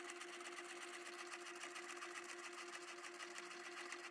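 A sewing machine runs steadily at close range, stitching a short, narrow bar-tack line to attach a belt loop on denim jeans, its motor hum and rapid needle chatter continuous for about four seconds with no talk.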